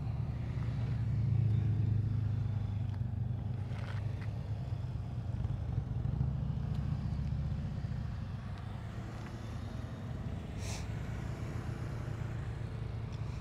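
A motorcycle engine idles low and steady during advanced slow-speed riding practice, a continuous rumbling drone with little change in pitch, heard from a moderate distance outdoors for over ten seconds.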